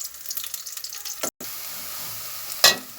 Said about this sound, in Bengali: আমি পেঁয়াজটা লাল করে ভাজবো।